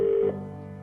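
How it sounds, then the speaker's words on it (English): A telephone rings once at close range, a bright steady electronic tone that stops abruptly and leaves a low hum in a quiet room. "Okay, phone call."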